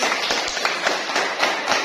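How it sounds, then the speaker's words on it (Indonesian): Elementary school classroom applause: a short burst of many small hands clapping quickly and densely at moderate volume. "Tepuk tangan untuk Al-Zahar"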